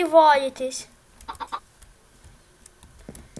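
A Minecraft chicken gives a brief clucking call at the start, followed by scattered soft clicks and taps in a quiet background.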